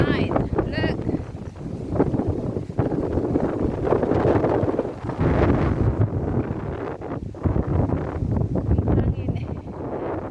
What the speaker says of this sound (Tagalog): windy tonight